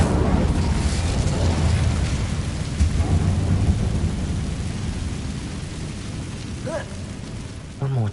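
The Incendio fire spell cast in Hogwarts Legacy, a loud roaring whoosh of flame with a crackling rumble that fills the scene and slowly fades, followed by a short burst near the end.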